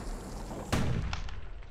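A musket shot cracks loud and sharp in the Bastion video game, then rings out into a decaying tail, with fainter follow-up pops after it.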